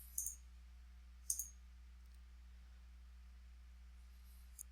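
Two or three faint computer mouse clicks, close and crisp, over a steady low hum, made while opening a blank document in Word 2016.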